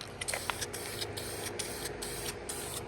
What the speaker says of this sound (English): And the magic of spray paint.